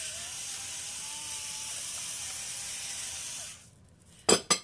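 A pepper grinder grinds with a steady close rasping hiss for several seconds, then stops, followed by two short sharp clicks of the mechanism, with no talking.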